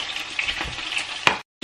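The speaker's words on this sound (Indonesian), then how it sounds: "Kita goreng ayamnya dulu." Chicken pieces frying in a pan while making nasi goreng rica rica, a short burst of steady sizzling with a few crackles and a sharp clatter near the end before it cuts off.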